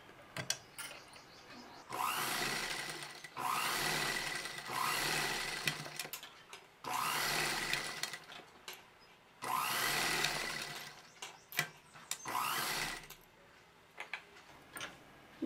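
A sewing machine stitches fabric folded over buckram for a kurti neckline with piping, running in several short, loud bursts of rapid needle chatter separated by quiet pauses and light handling clicks.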